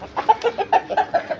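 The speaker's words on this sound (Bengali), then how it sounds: "একদম বাচ্চা মোরগ কিনছি" A young rooster clucks in a quick series of about eight short, close, clipped notes, loud and alone with no speech.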